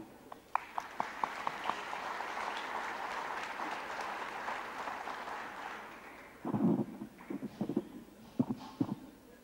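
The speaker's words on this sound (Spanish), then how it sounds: "Un aplauso." Audience applause at the opening ceremony of a medical scientific congress, a faint, moderately dense clapping from a seated crowd that thins out, followed by a few louder thumps and scattered claps near the end.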